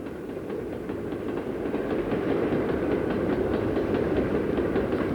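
A model train rumbles steadily along the track with a rhythmic clickety-clack of wheels over rail joints, fairly close and continuous with no voices.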